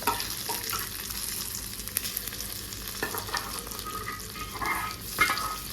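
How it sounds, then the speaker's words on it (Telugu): A tempering sizzles and fries steadily in a pan for an amaranth and moong dal curry, with a dense, continuous crackle and occasional scraping stirs, close and without any talking. "తాలింపు అంతా వేగిపోయింది కదా ఇప్పుడు ఇందులో వేసేసుకుందామండి"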